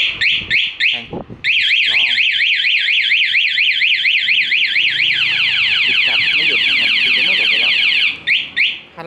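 An anti-theft alarm on a Dream motorcycle wails loudly and continuously, its siren tone sweeping rapidly up and down for several seconds, with brief chirps before and after, set off by someone touching the bike.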